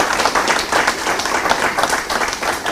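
A church congregation claps together in a dense, steady round of applause that carries evenly throughout, with no pauses.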